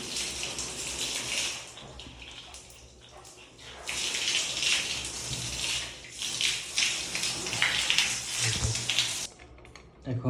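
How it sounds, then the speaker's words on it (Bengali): Water rushes out of the hot-water side of a newly fitted water heater in a steady, loud, hissing gush. It surges stronger partway through and cuts off near the end. "গরমের সাইড থেকে পানি চলে এসেছে।"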